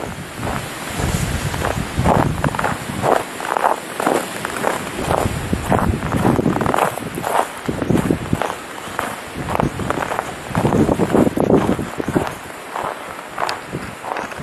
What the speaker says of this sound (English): we got 30 mile an hour winds. I'll shut up. You can hear the wind, I would imagine.